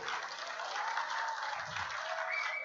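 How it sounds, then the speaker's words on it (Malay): Crowd at a political rally claps steadily for the Amanah party president, a brief, fairly quiet burst of even applause heard from a distance. "Kita berikan tepukan kepada Presiden Amanah Abang Mat Sabo."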